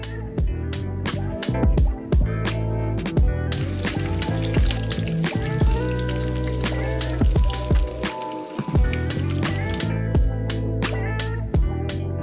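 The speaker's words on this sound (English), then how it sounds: "So we're gonna watch this fish cook for a second" Fish frying golden brown in hot oil, a steady dense crackle and sputter with sharp pops throughout, close and continuous with no talk.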